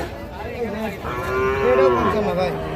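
A Sahiwal calf gives one long, drawn-out moo close by, rising and wavering, with faint background murmur and no clear talk.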